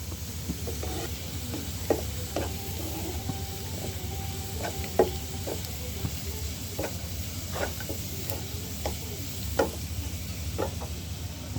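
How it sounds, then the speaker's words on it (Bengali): Onion, garlic and chana dal fry in a pan with a soft, steady sizzle, punctuated by occasional light clicks and scrapes from stirring; quiet and close, with no talking. "এই পেঁয়াজ রসুন ডাল ভুনাতে একটু কড়া করে ভেজে নেবেন।"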